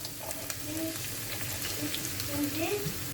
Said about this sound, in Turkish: Kavrulan yağın içine 2 adet doğradığım soğan ilave ediyorum.